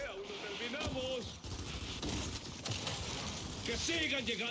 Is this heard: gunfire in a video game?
yes